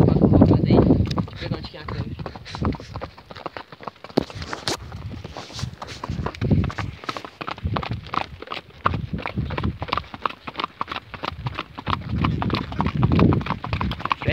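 A horse clip-clops steadily along on a ride toward town, its hoofbeats close and rhythmic throughout, with a rider talking intermittently over the hooves and wind noise in the background.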